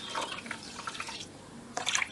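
Water is poured into a bowl of washed rice and sago, giving splashing, trickling bursts close by that pause briefly before a final splashy pour.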